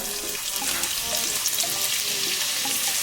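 Bay leaves and vertically sliced onion frying in hot oil for a Maharashtrian Agri Koli mutton dish, a steady bright sizzle with faint stirring scrapes, close and unbroken, with no voices.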